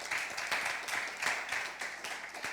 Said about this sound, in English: I want you all to give yourselves a round of applause